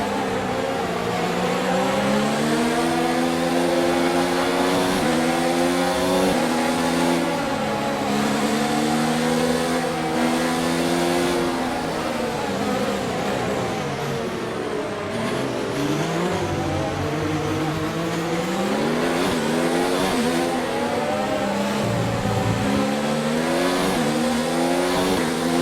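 Engine of an F1 race car in the video game F1 2019, revving loudly and continuously as it climbs and drops through the gears, pitch sweeping up and down with each shift, alone without talk.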